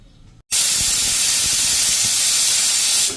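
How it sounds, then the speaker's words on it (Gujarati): A pressure cooker boiling black chickpeas on a low flame lets out its whistle. After a brief quiet moment, a loud, steady, high hiss of escaping steam comes in suddenly and holds for almost three seconds, close by. "તો જો આ રીતે આપણે 1 વિસલ થઈ ગઈ છે।"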